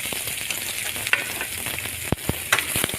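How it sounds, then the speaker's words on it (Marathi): Mustard seeds, onion, green chili and curry leaves sizzle in hot oil, a steady bright crackle broken by a few sharp pops and spatters, close and alone with no voices. "त्यानंतर मी मोहरी टाकते, कांदा टाकते, हिरवी मिरची टाकते, कढीपत्ता"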